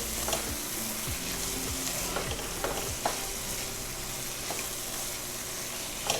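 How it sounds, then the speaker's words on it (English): Chopped tomato sautéing with dried shrimp for khichadi, a soft steady sizzle with a few spoon clinks and scrapes against the pan, quiet and without any speech. "Saute this for about 3 to 4 minutes."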